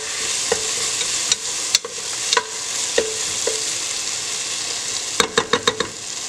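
Tomatoes, onions and ginger garlic paste sizzle in a pan while a spoon taps and scrapes intermittently, ending with a quick run of clinks near the close.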